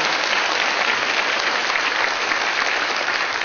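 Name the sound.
applause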